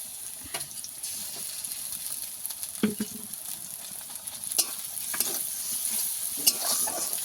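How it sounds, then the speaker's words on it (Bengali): Garlic, onion and ginger paste frying in oil for a tuna and eggplant curry, a steady close sizzle with a few sharp scrapes and stirs of a spoon across the pan, no talking. "রসুন আর পেঁয়াজটাকে ভালো করে লাল করে ভেজে নেব দিয়ে দেবো আদা বাটা"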